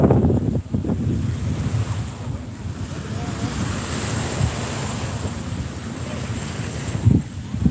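Surf at high tide on Manila Bay's Dolomite Beach, a steady broadband wash of waves with heavy wind buffeting on the microphone, continuous and fairly loud with a few stronger gusts and no talk.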